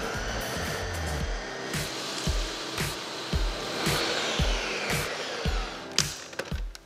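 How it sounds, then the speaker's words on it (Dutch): A kitchen blender whirs steadily while mixing a smooth sauce seasoned with freshly ground black pepper, a continuous mid-level motor drone with rhythmic pulsing, alone without talk. "En dit gaan we gewoon mixen tot een glad sausje."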